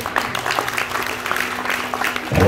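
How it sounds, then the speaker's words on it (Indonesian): Church congregation applause at a revival service, a moderate, loose patter of clapping with a faint steady hum underneath, lasting a couple of seconds before a louder burst at the end. "Tepuk tangan."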